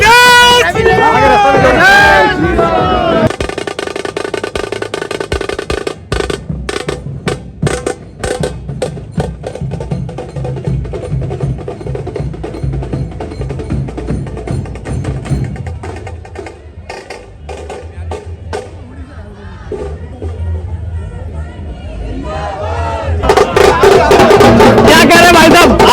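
Dense crowd hubbub at a politician's nomination rally in Delhi, a loud ongoing babble of many voices with scattered sharp claps and bursts, swelling again near the end while someone speaks over it.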